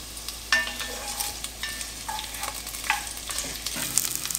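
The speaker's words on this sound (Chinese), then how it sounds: "开中小火，慢慢的把洋葱炒软。" Onions stir-frying in a little oil over medium-low heat, a soft steady sizzle broken by repeated scraping strokes of a spatula against the pan, close and fairly quiet with no voices.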